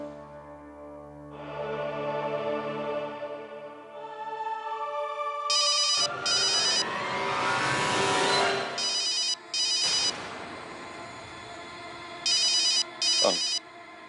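A phone rings in a domestic TV drama scene, with a melodic ringtone swelling alongside background music, then short bursts of high, chirping ring pulses repeating in pairs, moderately loud with no talking.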